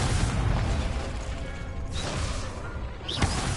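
Fiery Confringo spell blast in Hogwarts Legacy striking a training dummy, a rumbling boom over continuous low game ambience, with a sharper burst near the end.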